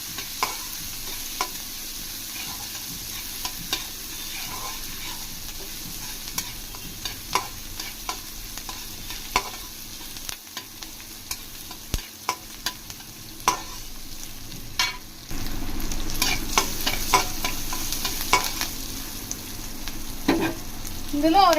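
Onion and slit green chillies fry in a pan for hotel-style tomato bath, giving a steady close sizzle broken by frequent spoon stirs and scrapes, growing louder and fuller in the last few seconds.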